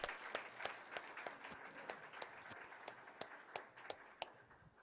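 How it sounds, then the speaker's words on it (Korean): A church congregation at a Sunday worship service claps together at a distance, faint, with sharp individual claps standing out from the steady patter. "박수"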